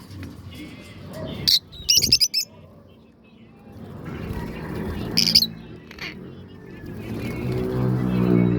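Hand-fed baby birds with green beaks give sharp squawking chirps in short bursts near 1.5, 2 and 5 seconds, over a low rumble that sounds like a passing car, with a person talking softly to them in between.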